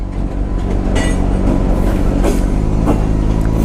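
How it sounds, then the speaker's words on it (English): A slow-moving train rolls past at a railway crossing, a continuous loud low rumble with faint rhythmic clanks from the rail cars, over the steady hum of an idling 2011 Honda CBR 600 RR motorcycle. "Is there actually a train coming?"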